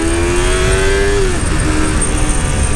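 A new 300cc motorcycle accelerates hard, its engine note climbing steadily in pitch before shifting, loud and close with continuous road and wind roar underneath.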